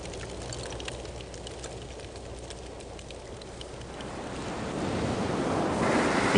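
Steady roar of ocean surf where flowing lava reaches the sea, a broad continuous wash of breaking waves with wind that swells louder toward the end, no voices.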